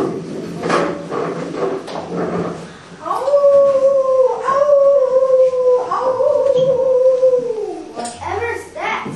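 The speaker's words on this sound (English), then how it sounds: "It sounded like a wild dog." Wild dog howling in a staged scene about the curse of the Baskervilles; a long, wavering howl rises and holds for several seconds, surrounded by people talking before and after.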